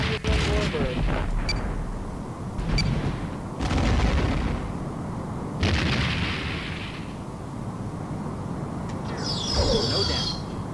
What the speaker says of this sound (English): Enemy ship is firing. Fire. Target Romulan warbird.